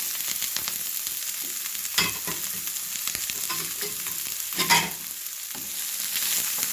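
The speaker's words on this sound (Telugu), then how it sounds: "ఇప్పుడు మనం కట్ చేసి పెట్టుకున్న ఆనియన్స్ గ్రీన్ చిల్లీస్ ఉన్నాయి కదా ఇది వేసుకుందాం" Onions and green chillies fry in a hot tempering of oil and curry leaves, giving a steady close sizzle with louder bursts of crackle near two and five seconds as the pan is stirred.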